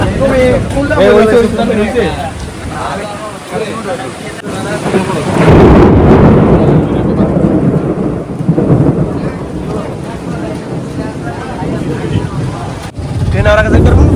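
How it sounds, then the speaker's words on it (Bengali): A heavy rainstorm with thunder: deep rumbling rolls and a steady wash of rain, loud and close, with people talking throughout. "বৃষ্টি পড়া শুরু হয়ে গেছে"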